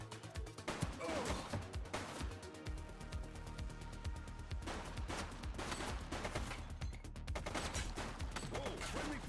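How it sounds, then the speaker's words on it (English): Rapid gunfire in The Precinct video game, a dense fusillade of shots from automatic weapons, loud and continuous throughout with sharp cracks layered over a steady low rumble. "He's shooting!"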